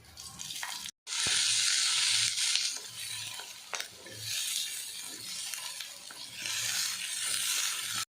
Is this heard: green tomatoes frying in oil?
yes